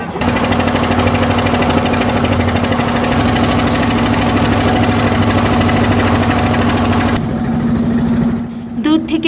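A loud, steady diesel chug of a trawler boat engine drones continuously on the Padma River near Mawa ghat, then abruptly drops to a quieter, thinner rumble near the end.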